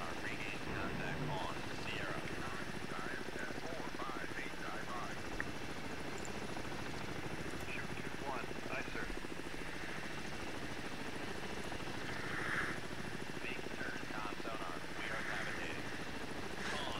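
A helicopter hunting a submarine in the naval video game Cold Waters, a steady throbbing rotor drone with a rhythmic chop held at constant level for the whole stretch, with no break or pause.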